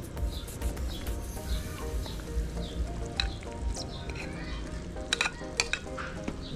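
Chicken with tamarind flowers cooks in a pan with a steady close sizzle and bubbling, broken by occasional stirring scrapes and sharp crackles toward the end.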